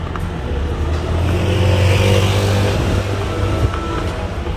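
A garbage truck drives along a street in Japan, its engine rumbling and swelling in a steady pass with low tonal drone, loud and close, ringed by faint street noise and no speech.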